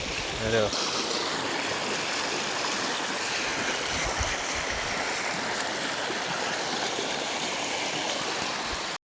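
Heavy rain with rainwater flowing in a flooded outdoor area, a dense, loud, continuous rush of water that fills the whole clip, with a brief voice near the start.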